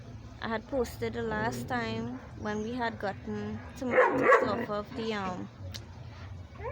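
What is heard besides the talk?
dog barking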